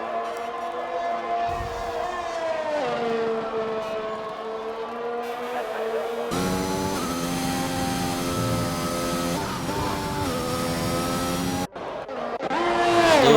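A McLaren Formula 1 car in a racing game pulls out of the pits at a Japanese circuit, a steady high whining engine note rising and shifting in pitch through gear changes, with commentary running over it.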